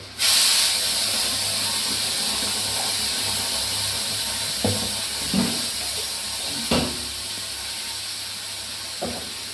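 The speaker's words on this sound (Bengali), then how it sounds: "আমি এবার এই মশলাটা ঢেলে দিচ্ছি এই ডিমের ঝোলে।" Spice paste going into a simmering egg curry, a loud hiss bursting at the start and settling into a steady steamy sizzle with a few soft knocks and clinks, no talking.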